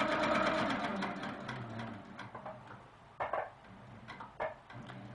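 A sewing machine stitches through a quilt's inner borders and cornerstones, running in a steady close whir that drops and restarts in short bursts, with a few light clicks between runs.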